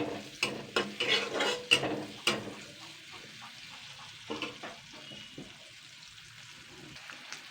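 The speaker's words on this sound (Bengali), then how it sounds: "পেঁয়াজটা আমি জাস্ট দুই মিনিট একটু ভাজা ভাজা করে নেবো" Chopped onion frying in oil in a kadai, with loud spatula clatters and scrapes in the first seconds that fade into softer, intermittent stirring over a low sizzle.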